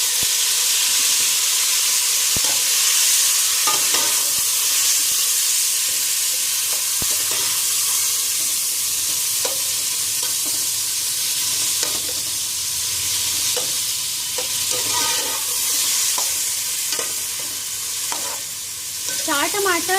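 Chopped tomatoes and browned onions fry loudly in a pan for Hyderabadi chicken tahari. A steady hiss and sizzle runs throughout, broken by repeated spatula scrapes and taps at an uneven pace, close to the microphone and without speech.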